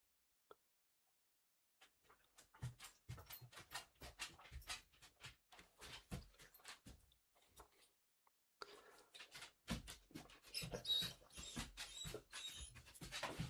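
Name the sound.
dog whining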